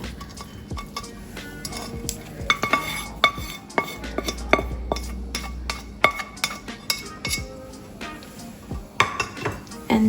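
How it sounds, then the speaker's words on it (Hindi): Fried vegetables and egg tipped into a pan of fried rice, with repeated clinks and scrapes of a utensil against the cookware and a brief low rumble midway, close and busy with no talk. "ये जो हमने वेजीज और एग फ्राई किया हुआ था वो उसमें डाल देंगे।"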